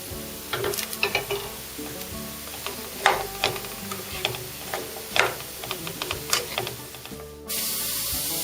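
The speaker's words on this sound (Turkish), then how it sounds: "doğradığımız kuru soğanları ilave ediyoruz. Şeffaflaşana kadar kavuruyoruz." Chopped onions sizzle and crackle in a hot pan with irregular pops and occasional clicks of stirring, fairly close and without talk.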